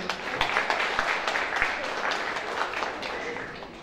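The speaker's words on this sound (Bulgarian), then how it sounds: "Аплодисменти още веднъж." Audience applause at a spring concert by folk ensembles of a community cultural centre in Shumen, Bulgaria: sustained clapping from a sizeable crowd, fairly close and steady, easing off slightly toward the end with a murmur of voices underneath.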